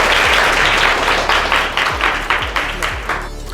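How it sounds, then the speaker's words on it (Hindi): A crowd at a school student competition applauds loudly and steadily, dense clapping that swells and fades in waves, filling the whole space. "इनके लिए जोरदार तालियां बजाइए"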